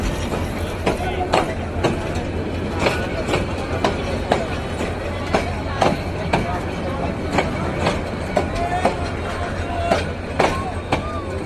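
A train rolls past at a busy railway level crossing in the afternoon, its wheels beating a steady clickety-clack rhythm of repeated sharp knocks over a constant low rumble, close and loud throughout.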